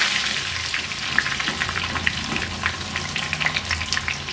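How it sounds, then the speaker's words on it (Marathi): Sliced onions frying in a pan of well-heated oil, a dense, steady crackling sizzle with scattered bright pops, close and continuous throughout with no voices. "या झाऱ्यावर थोडासा कांदा घेऊया आणि या तेलामध्ये सोडूया।"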